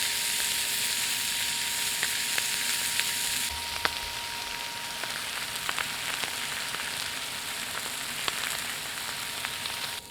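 A thick tomahawk ribeye sears with fresh butter on a Traeger, giving a steady, close hiss of frying with scattered crackles and pops throughout, no voices.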